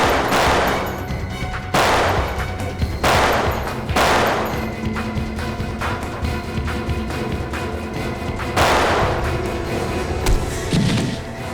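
Bursts of gunfire crackle through a crime drama scene, several loud volleys and single shots spaced across the stretch, close and sharp, with no talk over them.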